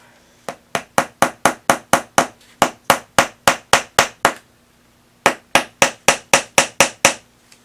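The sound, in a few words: hammering nails into a board for string art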